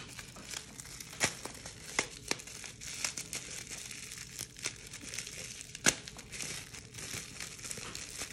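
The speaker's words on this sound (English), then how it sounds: "in this plastic wrap, I think this is the oil. I can get this open" Plastic wrap around a bottle of oil being torn and pulled open, a steady run of close crinkling and crackling with several sharper rips and snaps scattered through, no talking.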